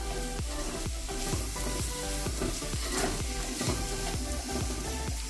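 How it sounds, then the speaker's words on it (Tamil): Finely chopped onions for chicken gravy sizzle loudly in a hot pan, with steady crackling and a regular rhythm of stirring scrapes. "இதை நல்லா வதக்கிடலாம்."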